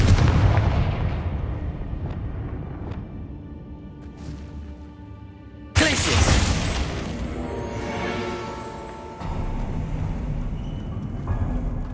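Confringo spell explosions in the video game Hogwarts Legacy, heavy booming blasts over a dense continuous rumble, with a sharp loud burst partway through followed by sustained crackling roar.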